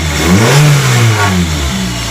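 A BMW G20 engine revs loudly after its motor mounts were replaced, rising and then falling in a single continuous pull with a steady mid-range drone. It sounds close and is heard alone.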